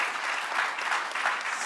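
Short burst of audience applause at a conference session, steady and dense throughout, moderately loud with no voices over it.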